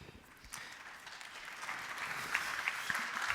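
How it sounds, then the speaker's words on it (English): An audience applauds after a speech at a governing council meeting in a conference hall: steady clapping from many people, building slightly and continuing throughout, with no talking. "Indeed, a well-deserved applause for that message."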